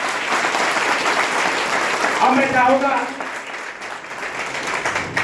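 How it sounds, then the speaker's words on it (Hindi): At a political review meeting on the Ghosi by-election, an audience breaks into loud, sustained applause to welcome a guest while a voice speaks over the clapping. "चाहेंगे कि एक बार जोरदार ताली बजा के आपका स्वागत करें अपने।"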